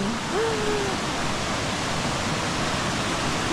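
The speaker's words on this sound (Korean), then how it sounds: "물소리를 따라서 왔는데" Steady rushing water pours continuously, a dense even roar like a forest stream or small cascade close by in Plitvice Lakes National Park, Croatia, with a faint whistle-like tone briefly on top.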